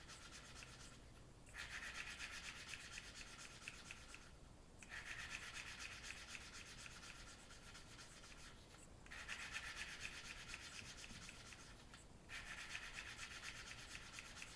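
A valve on a 1948 Farmall Cub engine is lapped into its seat by hand, producing repeated gritty rubbing strokes in long bursts separated by brief pauses, close and quiet, with no voices.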